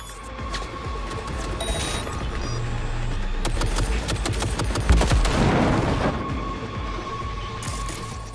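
A hacked turret in Cyberpunk 2077 fires a long, rapid, continuous burst of gunfire over a low rumble. The burst builds in the middle and then fades, with no talk.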